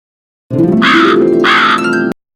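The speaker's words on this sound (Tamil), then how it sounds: "காகம் கா கா என கரையும்." Crow gives two loud, harsh caws in close succession, near and clear with nothing else heard.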